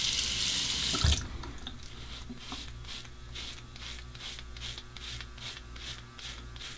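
A razor is rinsed under a running tap. A burst of water hits first, then a gentle, steady trickle of water runs on nearby for several seconds.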